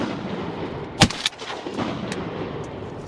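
A single sharp shotgun blast rings out during a Louisiana public-land duck hunt from a pirogue or kayak, followed by a quieter second report and faint echoes over open water and marsh.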